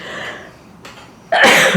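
A single sharp sneeze bursts out near the end of a short quiet stretch during an indoor interview, loud and close, after a faint earlier breathy sound.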